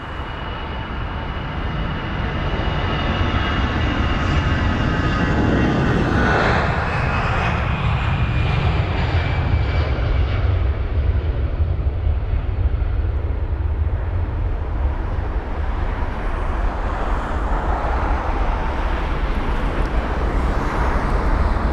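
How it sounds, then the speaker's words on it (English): An Airbus A320 departs London Heathrow, its jet engines building into a loud, sustained roar that fills the whole stretch, with a fading whine early on. "the A320 is on departure, so we'll bring that out to you"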